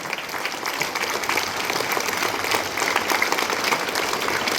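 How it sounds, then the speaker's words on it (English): A crowd of students and guests claps steadily at a school appreciation event for a football club, a loud, even wash of applause lasting throughout without pause or talk. "I want a big round of applause from each one of you here"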